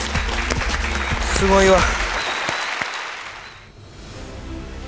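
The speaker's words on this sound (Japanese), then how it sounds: "誰に大きな拍手をお願いします" An audience at a Yu-Gi-Oh duel event applauds the players with a burst of clapping that swells and then fades out, while a voice speaks over it.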